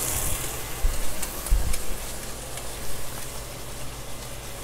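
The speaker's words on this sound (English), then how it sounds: "Whisk it up" Whisking shoyu cream in a bowl, a brisk scraping, swishing sound with a few sharper clinks, heard close up and alone.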